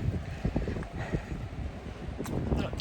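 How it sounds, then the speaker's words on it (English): Wind buffets the microphone outdoors during a heavy downpour, making a low, gusty rumble with a steady rushing wash over it. "It's absolutely throwing it down. Windy."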